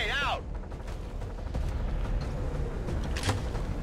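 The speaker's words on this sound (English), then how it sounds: "We're gonna launch a grenade at him." A grenade is launched at an enemy in XCOM 2: War of the Chosen, with a brief warbling electronic tone followed by dull booms and scattered impact bursts over steady game background noise.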